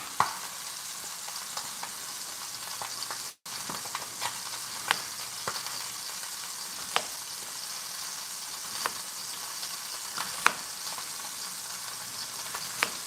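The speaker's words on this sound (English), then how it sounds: "the sweet sounds of pork chops getting comfortable with their heat" Big pork chops sizzle and fry steadily in a hot pan, a continuous bright crackling hiss with scattered louder pops and spits, close up and without talk.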